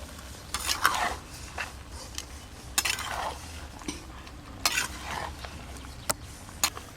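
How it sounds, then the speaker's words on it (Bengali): Onions being stirred into mutton curry in a metal pot, with repeated scraping and clinking strokes of a spoon against the pot at irregular intervals over a soft sizzle, close and moderately loud. "এইভাবে খুব ভালো করে নেড়ে নেড়ে পেঁয়াজগুলো মিশিয়ে নেব মাংসর সাথে"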